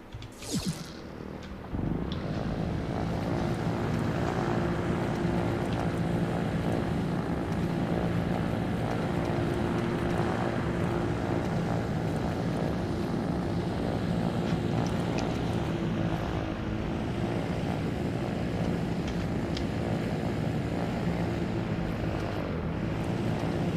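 Steady drone of a helicopter's rotor and engine in the video game Trailmakers, starting up after a brief moment and then running loud and unbroken throughout.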